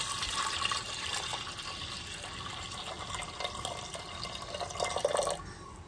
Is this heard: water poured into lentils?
yes